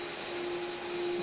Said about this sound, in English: the vacuum was still on